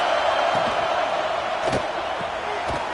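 Video game college football stadium crowd gives a continuous loud roar and cheering aimed at the offense, with a few thuds and shouts rising out of the dense wash.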